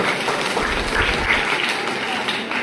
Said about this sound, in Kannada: ಇಟ್ನಾಳ್ ಸರ್ ಅವರಿಗೆ ದಯವಿಟ್ಟು ಒಂದು ಜೋರಾಗಿ ಚಪ್ಪಾಳೆ ಕೊಡಿ